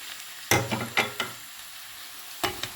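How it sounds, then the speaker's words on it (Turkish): Onions, garlic and peppers frying in a pan for tripe kavurma, a soft steady sizzle broken by several quick scraping stirs and utensil knocks, close up with no talking. "Soğanlarımız ve sarımsaklarımız biraz kavrulsun"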